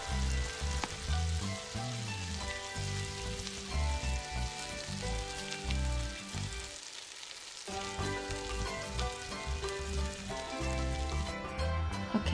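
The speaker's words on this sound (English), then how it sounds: "add in the chopped woody mushrooms and continue to stir for about 1 to 2 more minutes until it is cooked" Chopped wood ear mushrooms stir-fried in a hot pan give a steady close sizzle, broken by scraping and tossing sounds from stirring, with a short quieter gap midway.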